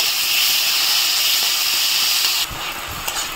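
Spice masala and tomato fry in oil in a pan for a Bengali mankochu (giant taro) curry, giving a loud, steady sizzling hiss that drops to a softer crackle partway through. No one talks.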